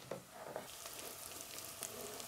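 Shredded cabbage sizzles softly in a pot, a quiet steady frying hiss with a few light clicks of stirring.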